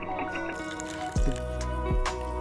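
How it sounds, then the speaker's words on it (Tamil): Flattened rice (aval) is washed in water in a kitchen, with close wet sloshing, drips and squishy handling sounds, and a couple of sharp knocks against the vessel, over a faint steady hum. "இப்போ தண்ணி சேர்த்து நல்லா இதை வாஷ் பண்ணிக்கோங்க."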